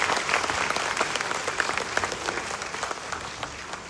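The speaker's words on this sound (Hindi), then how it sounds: "एक बार जोरदार तालियां उनके लिए" Loud, sustained audience applause at a DXN company event in Nepal, dense clapping from a large crowd that tapers slightly toward the end, with no talk over it.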